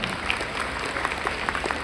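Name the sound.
applause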